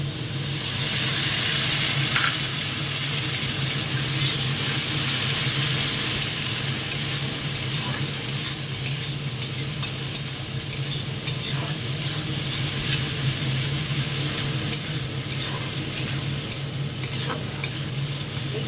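A ginger and cumin paste fries in a pan for a small tangra fish masala curry, giving a steady, close sizzle throughout with light stirring and occasional utensil clinks and no talking.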